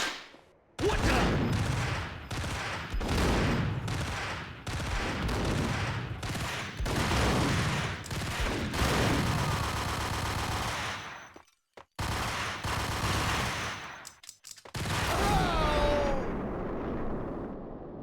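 Repeated bursts of gunfire from the Max Payne video game, sharp close shots in rapid succession for most of the stretch, with brief gaps and a short pause before firing resumes near the end.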